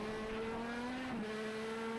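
Race cars at the start of a rain race in NELCAR Legends at New Hampshire Motor Speedway, a steady engine drone with a held tone that dips briefly mid-clip, loud and continuous with no talking.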